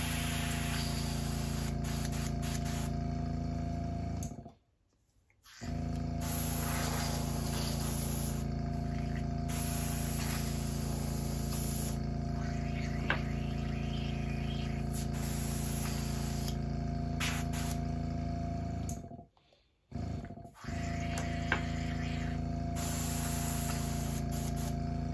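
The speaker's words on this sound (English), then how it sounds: "Clean this out of my airbrush." Airbrush hissing as it sprays paint onto a custom crankbait fishing lure, a steady broadband spray running almost continuously for about 25 seconds, broken by two brief pauses.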